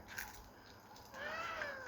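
A cat makes faint, thin meows and soft chewing or biting noises nearby, quiet and brief, with a short drawn-out cry near the end.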